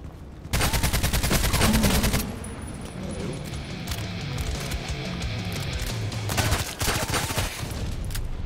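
Rapid bursts of automatic gunfire from an opposing player in a sniper shooter video game, loud and dense at the start, then scattered shots and faint talk before another heavy burst near the end.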